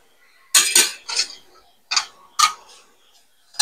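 A metal utensil clinks and scrapes against a pan while a thick sauce is stirred into fried tofu and pork, in a few irregular close knocks separated by quiet pauses.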